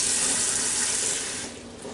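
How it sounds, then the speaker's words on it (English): Tap water running into a pot for tuna pasta, a steady bright hiss and splash that fades slightly toward the end. "Add water to it."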